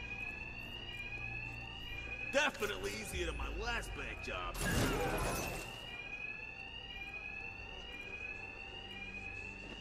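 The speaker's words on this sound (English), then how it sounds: "these thugs can't hear a thing. The alarms." A steady electronic alarm rings loudly throughout a Batman: Arkham Knight game scene, running under a voice and bursts of other game sound effects.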